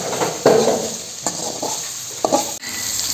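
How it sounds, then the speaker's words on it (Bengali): Paneer sizzles as it fries in a ghee and oil mixture in a pan, a steady crackle broken by several louder stirring scrapes and clinks. "তো এবার বাকি সবজি ভাজার আগে আমি আগে পনিরটা ভেজে নেব।"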